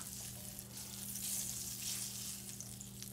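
Butter melts in a pan, ready for sautéing vegetables for cornbread stuffing, giving a faint, steady, close sizzle over a low background hum.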